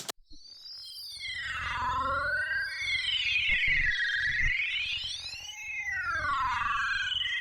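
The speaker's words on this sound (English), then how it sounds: "It's an atmosphere from my upcoming Vital Bank." A swirling synthesizer atmosphere pad made in Vital, with sweeping, warbling harmonic tones rising and falling over a low rumbling drone, steady and sustained throughout.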